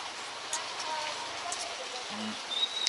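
Steady rain hiss fills the background, with faint speech and a few scattered drips and bird chirps.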